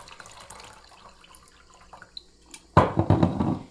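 Citrus-infused homemade vinegar cleaner is poured through a fine mesh strainer; after near-quiet handling sounds, a sudden close splashing pour begins and continues loudly to the end.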